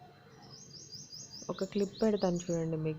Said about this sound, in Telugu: పక్షులన్నీ ఎలా సౌండ్ చేస్తున్నాయో.